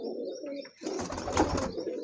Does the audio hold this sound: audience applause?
no